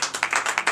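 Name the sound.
congregation applauding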